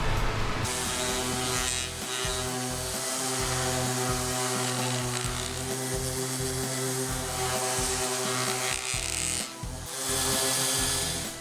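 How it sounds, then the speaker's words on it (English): A power sander works over the edges of a wooden silverware organizer, a steady, loud abrasive whine that runs without a break for the whole stretch, with only slight dips in intensity. "I'm just going to go ahead and sand everything down lightly"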